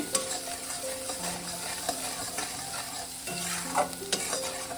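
Tilapia fish stir-fried in a pan with salt and chili powder makes a continuous sizzle broken up by repeated scraping and stirring strokes, close and fairly loud.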